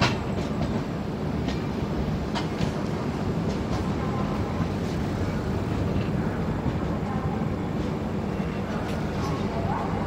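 Balaji Express passenger train pulling away from a station platform, a steady loud rumble and clatter of wheels and carriages running throughout, with faint voices mixed in.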